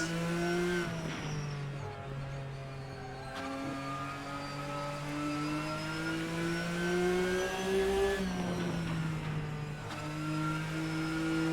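A flat-six engine in Assetto Corsa, driving a GTN car, revs steadily on throttle with a warbling, rising drone that dips at two gear changes, loud and close, with no talk.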